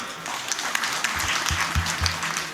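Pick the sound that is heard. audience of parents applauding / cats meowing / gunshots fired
audience of parents applauding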